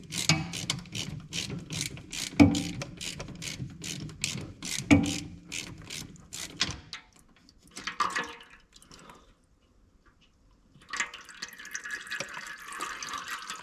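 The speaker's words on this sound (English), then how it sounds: "You have to use a Allen wrench like this to get in there." An Allen wrench turns the fill plug on a 2018 Polaris Ranger 500 in a run of rapid, evenly spaced metallic ratchet clicks, then stops after a pause, followed by sparse ticking and a light drip.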